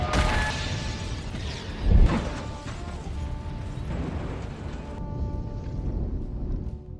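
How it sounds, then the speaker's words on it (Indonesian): A bomb goes off and destroys a shop: one sharp, heavy boom near two seconds into a dense, noisy scene, followed by sustained rumbling, crashing debris and clatter. "sebuah bom meledak yang membuat toko tersebut harus hancur"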